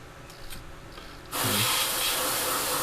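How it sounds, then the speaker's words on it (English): After a quiet start, a sudden steady hiss of an airbrush spraying light dusty coats of paint on a 1/48 scale FW-190 model begins and continues loud and even to the end. "load it up the airbrush, light dusty coats"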